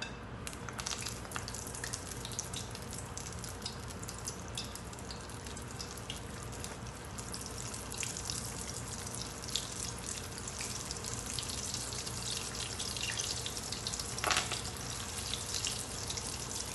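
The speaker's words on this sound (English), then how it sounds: "our oil is hot we'll put the vadas in there" Sago (sabudana) vadas sizzling in hot oil, a steady dense crackling hiss that runs throughout at moderate level with no talk.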